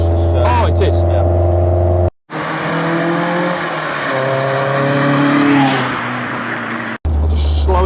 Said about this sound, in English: you can hear the noise and the vibration and the little bits of chippings from the road just hitting the wheel arches